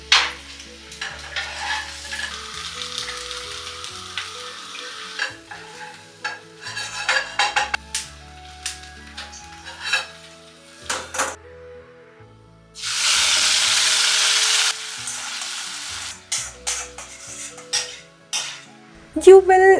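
Potatoes fry in oil in a home kitchen pan, with scattered clinks and stirring scrapes, then a loud steady hiss partway through as the frying flares, plus a few utensil knocks near the end.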